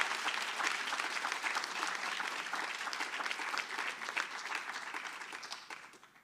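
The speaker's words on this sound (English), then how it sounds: "let's give another round of applause to Amandisa." Audience applause at a new staff induction event, a steady dense patter of clapping from a crowd that holds for several seconds and then fades out near the end.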